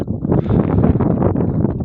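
A strong wind on a sunny day in a village buffets the microphone with a steady, loud low rumble, no voices present.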